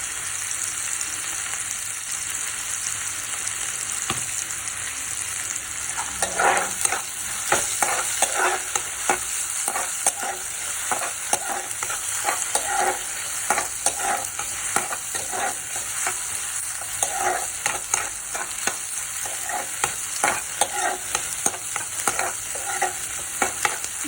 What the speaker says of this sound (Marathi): गॅस फास्ट करूया आपण आणि कांदा परतून घेऊया त्यात।